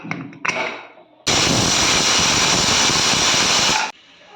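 A pressure cooker on a stove, cooking mutton chops, lets out one loud, sustained hiss of escaping steam lasting about two and a half seconds after a few small clicks and sputters.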